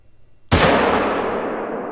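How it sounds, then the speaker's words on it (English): A single loud rifle shot fired at a bison in theHunter: Call of the Wild cracks sharply after a quiet stretch, then trails off in a long, rolling echo across the Yukon Valley. "Let's see if we could take a shot at him."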